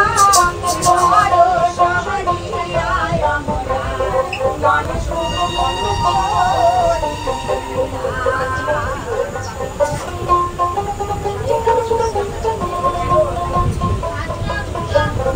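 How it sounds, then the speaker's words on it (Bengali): Indian Railways train on the Northeast Frontier Railway pulling into Jalpaiguri station, with a continuous rolling rumble and metallic squealing tones throughout and people talking over it. "নটা 55 আর গাড়ি ঢুকছে জলপাইগুড়ি স্টেশনে।"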